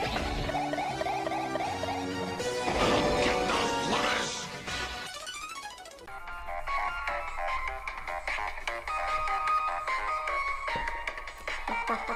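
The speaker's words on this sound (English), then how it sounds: "I love my ringtone so much." A bright, busy electronic ringtone melody plays loudly, with chiming synth notes and a shift to a new tune partway through.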